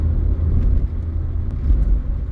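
A steady low rumble of a 25-year-old Mazda 626 driving, continuous engine and road noise heard from inside with no breaks.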